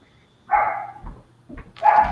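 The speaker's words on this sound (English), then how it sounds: "Who let the dog out?" A dog barks, two loud separate barks about a second apart, with faint low room rumble between them.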